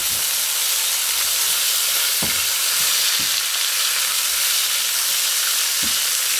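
Shrimp hit hot oil in a frying pan alongside Chinese celery and set off a loud, dense, continuous sizzle close up, broken by a few dull knocks from the pan or utensil.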